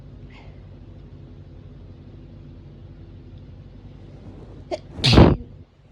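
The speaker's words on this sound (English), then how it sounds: "you're sneezing everywhere" A single loud, close sneeze bursts out near the end after a quiet stretch with low background rumble, preceded by a faint short sniff or intake, from someone suffering autumn allergies.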